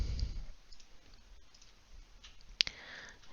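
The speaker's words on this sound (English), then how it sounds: "Upload the document by clicking Browse Local Files." A single sharp mouse click rings out once near the end, faint and close, over a quiet background hum as a document is uploaded on a computer.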